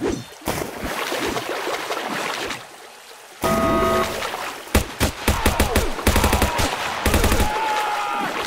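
Machine gun firing in a shooter video game, rapid bursts of loud cracking shots over a noisy background, with several fast volleys in a row, no one talking.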